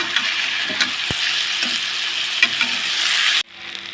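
Cumin seeds and dry red chillies tempering in hot oil in a kadai for dal, a constant close sizzle with small crackles and a few utensil taps, cutting off abruptly near the end.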